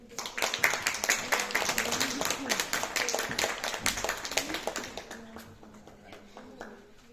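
An audience applauds at a school certificate ceremony for eleventh-grade students at Széchenyi István Lyceum in Csap. Dense, close clapping builds quickly, holds for several seconds, then thins out toward the end.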